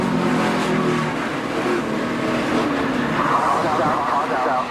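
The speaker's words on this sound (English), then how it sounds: "You could hear Chase even getting out of the throttle, too." A NASCAR stock car engine roars loudly and continuously at Iowa or Pocono, the pitch easing as the driver lifts off the throttle, with the broadcast commentators talking over it.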